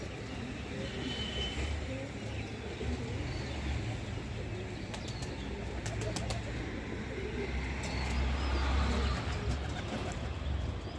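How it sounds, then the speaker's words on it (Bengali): Pigeons coo softly around a village dovecote in the early morning, some birds out and the rest still inside, a low steady murmur against broadband outdoor noise with occasional wingbeats and chirps. "আমার কবুতরগুলো এখনও পুরোপুরি বের হয় নাই, অল্প বের হয়েছে, আর বাকিগুলো ঘরেই আছে"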